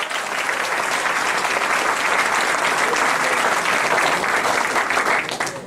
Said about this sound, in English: Please welcome him with big round of applause.